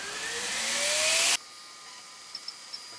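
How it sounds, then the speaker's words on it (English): A CNC machine with a spoil board bit flattens scrap wood for a decanter: a loud, rising, high-pitched whine of the spindle cutting that stops abruptly, leaving a quiet room with a few soft ticks. "bring it over to the CNC machine and use the spoil board bit to trim it"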